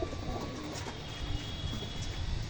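Soft pigeon cooing from tournament racing pigeons kept in a loft, low repeated coos against a steady background hum, fairly faint and without talk.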